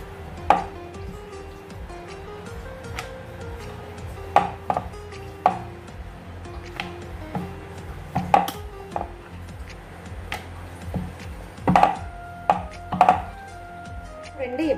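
Chapati dough is rolled out on a board, giving repeated soft rolling-pin knocks and taps in an irregular rhythm, close and moderately loud, over a low steady background hum.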